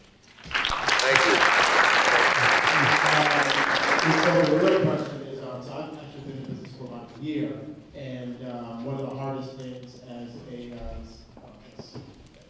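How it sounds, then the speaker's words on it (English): Audience at an entrepreneurship summit fireside chat gives a loud round of applause for a small-business support organization, dense clapping for about four seconds that stops abruptly, followed by someone speaking alone. "round of applause for EforAll."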